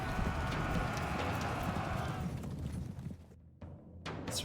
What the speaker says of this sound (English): That's right, horses outrun you.